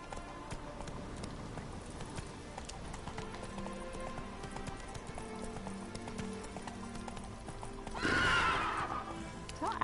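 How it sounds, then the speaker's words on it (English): A horse gallops in The Witcher 3 video game with steady rapid hoofbeats, then a loud whinny near the end. "Come on, Roach. Run, Roach."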